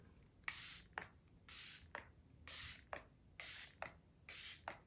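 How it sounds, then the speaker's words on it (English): Five short bursts from an aerosol can of face primer spray, each a hissing spray lasting about half a second, evenly spaced and close by. "I'm going to spray a little bit of this before I go in with the foundation"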